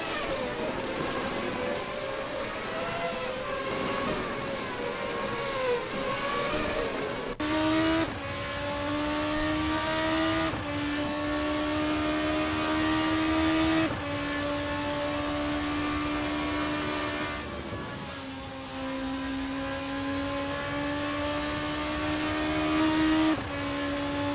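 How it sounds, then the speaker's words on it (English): Race cars in a sim racing game at Silverstone, with engines droning and rising and falling through gear changes as they pass, loud and steady, with shifting pitch throughout. "See Judd Watt into the pit lane"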